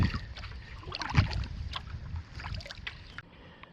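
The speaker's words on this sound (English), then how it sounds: "Just keep paddling around." A kayak paddles across a flat pond in Northern Maine on a calm morning, with soft, close-up dips and drips of the paddle in the water and light handling knocks.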